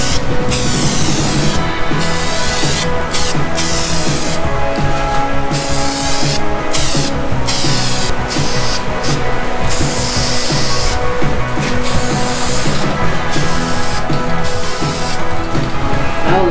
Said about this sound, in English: Now it's time to paint the front forks. I'm using this VHT engine enamel.